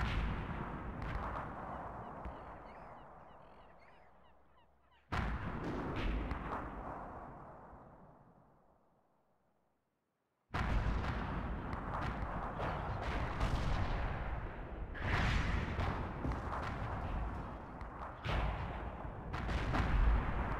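Artillery shells striking a house in World of Tanks, heavy booming impacts with long rumbling decays and a sudden loud blast after a near-silent pause, followed by sustained crackling gunfire-like noise.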